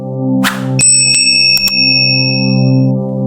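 A bright notification bell chimes in a short cluster of dings that ring out and fade, sitting over a steady sustained musical backing, with no voices.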